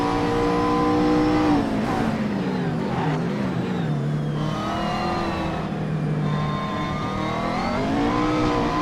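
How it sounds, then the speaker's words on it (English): Race cars, including a McLaren and a Mercedes SLS, roar through the Gran Turismo Circuit of the Americas, engine notes rising and falling with shifts as the cars pass, loud and continuous throughout. "See a McLaren battling an SLS."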